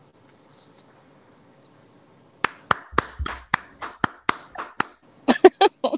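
A single person claps about a dozen times at an uneven pace, sharp and close, ending in a quicker flurry after a quiet start.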